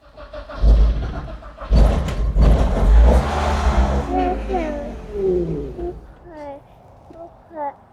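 A Nissan 240SX S14 engine cranks and catches, then revs in loud, rough bursts up close before settling into an idle with a few more blips, while a person talks and a voice chirps over it.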